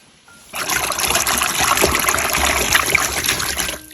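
A bucket filling from a running tap for preserving leaves with glycerin: a steady, loud splashing gush of water starting abruptly after a short quiet lead-in and continuing without a break.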